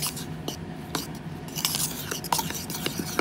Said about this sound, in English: I'm just gonna mix it together